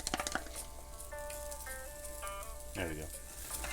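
About a cup and a half of diced potatoes frying and sizzling in a pan, a steady close sizzle with light stirring clatter, while someone talks briefly over it and bright musical tones play in the background.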